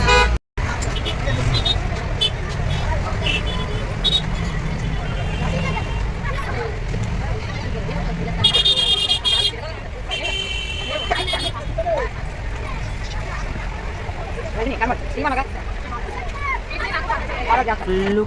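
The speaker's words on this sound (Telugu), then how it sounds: "ఫుల్ ట్రాఫిక్ అండి బాబు." Heavy road traffic rolls past a bus carrying a group toward Bhogapuram airport near Visakhapatnam, a steady loud roar of engines with a brief horn toot, under continuous chatter from passengers.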